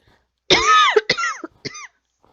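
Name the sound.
person coughing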